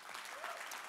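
Audience applause for EPA staff at a recycling conference opening plenary, a short, dense burst of clapping from a roomful of people, faint and steady.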